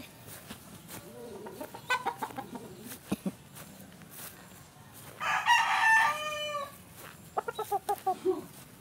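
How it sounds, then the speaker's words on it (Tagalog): Chickens cluck in short bursts around a farm, and a rooster crows once loudly in the middle, followed by more clucking; the sounds are fairly close against a quiet outdoor background. "mga manok"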